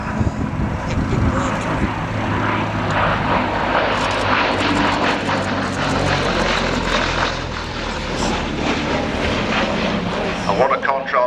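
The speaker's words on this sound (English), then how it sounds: "a wonderful aeroplane to fly because it's plenty manoeuvrable" A vintage propeller aeroplane flies over Old Warden airfield, its engine a steady, loud drone that holds throughout with slight swells, while someone talks over it.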